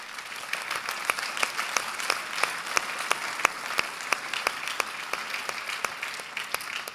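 Audience applause rings out at an award ceremony for a live-streamed event, a steady patter of clapping with sharp individual claps standing out, fairly close and continuous, with no talking.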